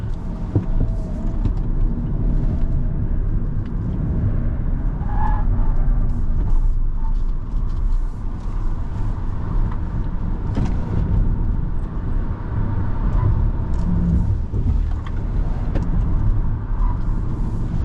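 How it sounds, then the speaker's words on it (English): Steady road and tire roar from a moving BYD Dolphin electric car on the Genting mountain road, continuous and loud throughout, with a deep rumble underneath. "Lots of tire noise."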